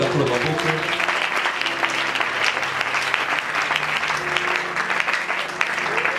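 A church congregation at a June 2022 worship gathering claps loudly and steadily in applause to acclaim the Lord, a dense, continuous roar of hands that fills the whole stretch with only small swells.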